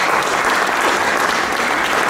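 An audience at the Trophée National de l'Accordéon breaks into dense, steady applause for Pascal Savard, a loud, even wash of clapping hands filling the room without pause.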